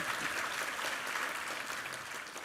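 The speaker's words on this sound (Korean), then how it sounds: "우리 하나님께 감사와 영광의 박수 올려드리겠습니다" A congregation at a church worship service claps steadily for a couple of seconds, a soft even patter of applause heard from some distance.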